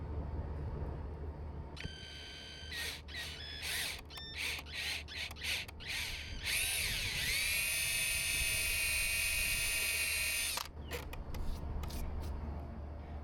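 A power drill drives screws into wood during a home workshop project, with a series of short whirring bursts followed by a longer steady high-pitched run, close and fairly loud, with no talking.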